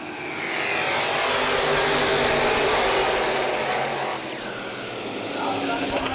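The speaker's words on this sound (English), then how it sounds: "The field will build speed through corners number 3 and 4." Open wheel modified race cars build speed through the corners at Baer Field Speedway, a broad, loud roar of many engines rising and swelling at a distance.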